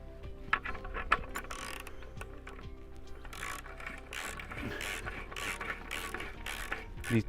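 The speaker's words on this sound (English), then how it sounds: "nip this up with a 15mm socket and a wrench or a ratchet" A 15mm socket ratchet tightens a bolt fixing a fence post to a wall, giving quick clicking ratchet strokes in irregular bursts, fairly close and moderately loud, with no voices.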